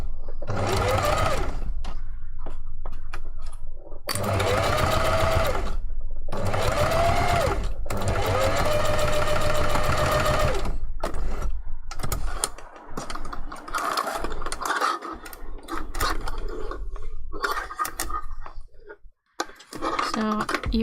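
A sewing machine stitching a seam on a fursuit paw, running in loud bursts with short pauses for backstitching at the ends, its rapid mechanical chatter sometimes joined by a person talking.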